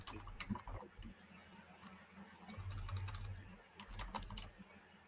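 Quiet, irregular clicking of computer keys as a search is typed in, with bursts of taps separated by pauses and a faint background hum.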